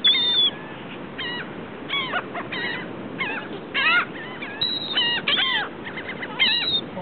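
Flock of birds being fed chips outdoors, calling in loud, repeated squawks and cries that come in clusters over a steady background hiss.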